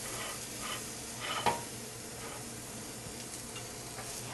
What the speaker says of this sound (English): What I'm going to do is take each one, put it on the grill